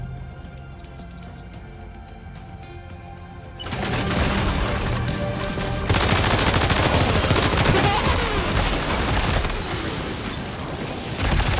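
Soldiers open fire in Death Stranding 2: On the Beach. A quieter stretch gives way to loud, dense, sustained automatic gunfire that rattles on continuously to the end.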